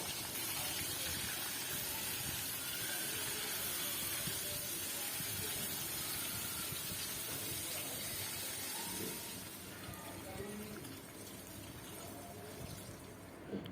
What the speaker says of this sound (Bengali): কড়াইতে সর্ষের তেল গরম করে মাছগুলো ভালো করে ভেজে নেব।